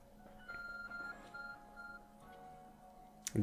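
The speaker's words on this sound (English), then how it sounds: "arc phone is beeping" A faint electronic beeping tone from the Arc Phone in the video game Pokemon Legends: Arceus repeats at a steady pace, soft and thin, before a sudden louder burst at the very end.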